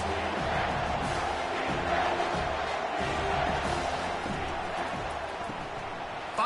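A stadium crowd roars and cheers in the College Football 25 video game during a USC vs UCLA matchup, a continuous dense wash of crowd noise with commentary-like voices mixed in.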